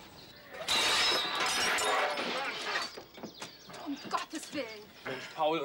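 Expensive drinking glasses shatter in a loud burst of crashing, tinkling glass at a garden party, with scattered fragments settling afterward as people react and talk.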